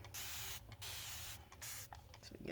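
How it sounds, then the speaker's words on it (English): Water spritzed from a spray bottle onto a mixed media artwork, three separate hissing bursts with short pauses between, close and fairly soft, ending with a brief knock. "let me spray this with a little bit of water so"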